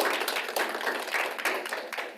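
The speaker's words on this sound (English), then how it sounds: "Let's give a big round of applause for him." Audience applause at a webinar, a short stretch of steady clapping from a small crowd at moderate level with no talking over it.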